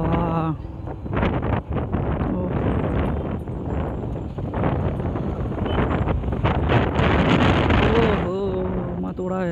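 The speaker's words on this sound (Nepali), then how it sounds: "ओहो म त उडायो हावाले मलाई, उडायो हावा ठन ठन।" Gusty wind roars continuously across a microphone outdoors near the Bagmati corridor, likely during a motorbike ride, with someone talking over much of it and clearer speech at the start and end.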